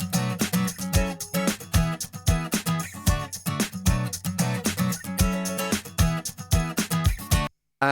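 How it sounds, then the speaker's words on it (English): A very dry strummed guitar loop rides over a punchy drum beat, sharp kicks and hits landing in a steady groove, close and loud with no reverb, cutting to silence just before the end. "very dry strummed guitar"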